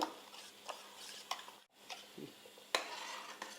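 A spoon stirs a thickening batter of flour and water. Soft scraping strokes and light taps against the bowl come in an uneven rhythm, close but quiet, with no speech.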